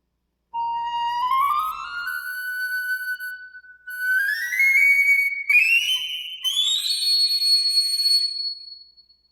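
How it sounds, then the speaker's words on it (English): Piccolo playing alone, bright and piercing, with a rising run of notes climbing into a high sustained tone, then further upward phrases, clear and close. "The piccolo."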